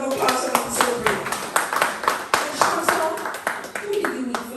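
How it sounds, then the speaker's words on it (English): Audience applause for a guest named at a youth community talk event, a steady run of hand claps from a crowd with voices mixed in throughout. "Let's give Shanta a round of applause for the celebrate."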